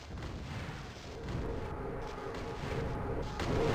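Missiles launch and explode in the space game EV Nova, a continuous rumble of booms and blasts at moderate level with no clear gaps.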